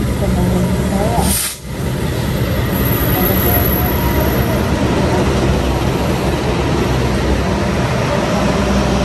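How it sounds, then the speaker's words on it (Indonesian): An Argo Muria passenger train bound for Semarang Tawang rumbles and hisses steadily at close range throughout, with one brief dip in the noise early on. "Rangkaian kereta api Argo Muria tujuan akhir Stasiun Semarang Tawang"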